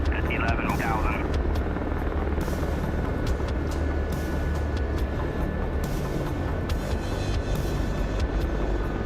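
A helicopter in a combat flight simulator video game, with a steady rotor and engine drone running the whole time while someone talks over it and brief radio-style clicks cut in.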